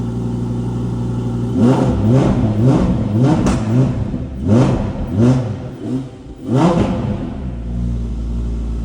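A powerful Lamborghini Huracán engine revs repeatedly in sharp bursts, rising and falling in pitch, then settles to a deep rumbling idle.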